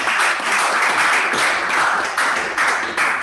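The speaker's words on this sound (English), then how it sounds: "You'll agree with me that it deserves a better round of applause." Sustained audience applause fills a press conference hall at the launch of an e-payment certification program, a dense steady wash of many hands clapping with slight swells and dips, no voices over it.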